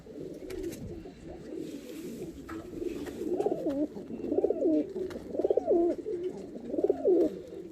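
Fancy show pigeons, including English Nun types, coo in a loft, their deep rolling calls repeating in rhythmic bursts close by and growing louder toward the end.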